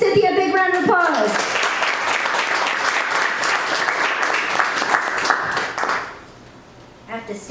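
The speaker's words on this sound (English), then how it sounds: "Everybody give Cynthia a big round of applause." A live audience gives a big round of applause for a performer on stage. The loud, dense clapping sustains for about six seconds before fading out, with a voice heard briefly at the start and end.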